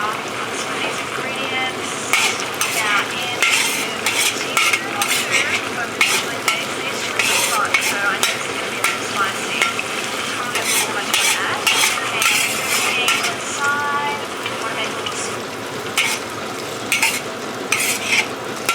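Prawns stir-frying in a hot wok for char kway teow, a loud continuous sizzle broken by rapid metallic scraping and tossing strokes throughout.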